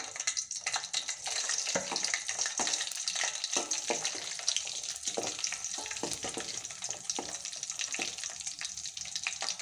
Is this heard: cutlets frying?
yes